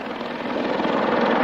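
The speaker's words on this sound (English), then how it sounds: "so to be able to throw a helicopter like that around is quite interesting" A helicopter throwing aerobatic manoeuvres at an airshow roars steadily and loudly overhead, its rotor beat and turbine whine forming a dense continuous wash without pause.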